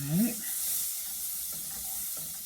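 Five tablespoons of butter melting in a pan for fried rice gives a soft, steady sizzle close by, with light stirring scrapes over it and no talking.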